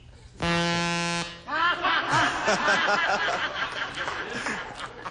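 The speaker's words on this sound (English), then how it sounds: "That is our tacky buzzer that means the time is up" A loud, harsh time-up buzzer on the 1975 game show Hollywood Squares blares for about a second, then the studio audience breaks into chuckles and laughter.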